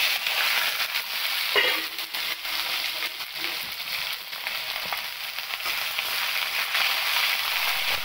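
Chopped onion and bay leaf frying in hot oil in a pan, a steady close sizzle with some stirring and no talk.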